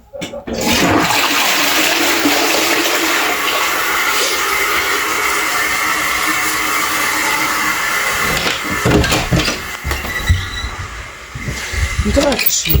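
A loud toilet flush roars close by, a sustained rushing of water that tails off into gurgles and clattering, with voices heard toward the end.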